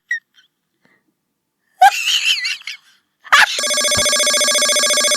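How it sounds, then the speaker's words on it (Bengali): A phone rings with a loud electronic tone that repeats in a steady pulse for the last couple of seconds. Before it, a voice makes brief squeals and gasps after near silence. "এই অসময় কে ফোন দিতে আছে"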